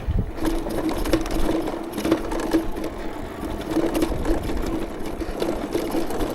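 A Mokwheel Scoria city e-bike climbs a mountain bike trail under throttle, its motor giving a steady mechanical whir with a faint whine, layered with rattling, ticking drivetrain noise and trail rumble throughout.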